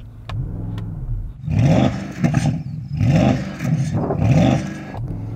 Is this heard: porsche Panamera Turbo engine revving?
yes